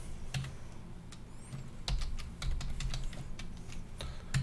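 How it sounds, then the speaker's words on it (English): Rapid keystrokes on a computer keyboard while a password is typed during a Check Point R80.40 gateway installation; close, crisp, irregular clicks run steadily throughout over a low background hum, with no talking. "And here you type a password,"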